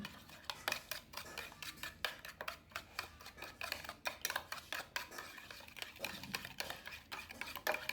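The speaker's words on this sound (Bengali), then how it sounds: "এখানে আমি এটা ভালোভাবে নেড়ে নিব যতক্ষণ পর্যন্ত চিনিটা গুলে না যাবে" Sugar being stirred to dissolve for a crisp pitha batter, with quick rhythmic clinks and scrapes of a spoon against the bowl, close and fairly quiet, no voices.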